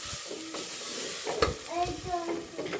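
Chicken masala frying in oil for donne biryani, a close sizzle broken up by stirring and scraping of a spoon against the pan, with a short bright clink.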